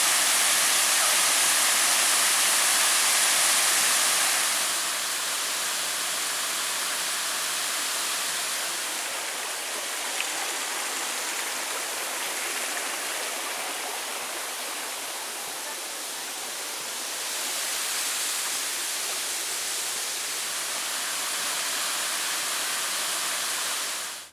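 Waterfall at Pictured Rocks heard from the top of the falls as water slides down a sandstone cliff, a steady hissing rush of falling water, fairly close and continuous, with no voices.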